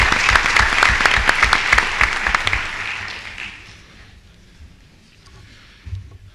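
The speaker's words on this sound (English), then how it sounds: "Let's give them all a nice round of applause." Applause for town employees at a 2013 annual town meeting: a hall full of people claps densely and steadily, then the clapping fades out about halfway through, leaving a quiet room.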